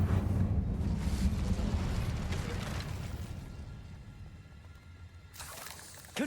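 Fire spell Incendio cast in the video game Hogwarts Legacy: a loud, whooshing roar of flame that swells at once and slowly fades, followed by a short burst near the end.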